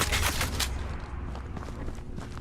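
Automated turret in a video game firing sustained bursts of gunfire, loud and dense at first, then continuing as a steady clattering barrage with scattered shots.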